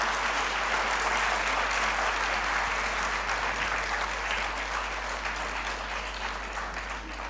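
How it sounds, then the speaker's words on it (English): Sustained audience applause fills an award ceremony hall, a dense, even patter of many hands clapping that continues steadily and tapers slightly toward the end. "a huge round of applause for them as well"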